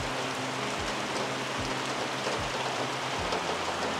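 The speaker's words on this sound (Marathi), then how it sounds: "अजून काय पाऊस गेलेला नाही, बारीक बारीक पाऊस आहे" Light rain falls steadily at a weekly village market, a dense, even hiss of drops with no pauses, while a low rumble pulses now and then underneath.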